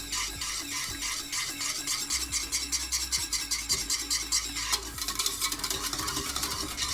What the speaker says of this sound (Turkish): Ve güzelce karıştırıyorum.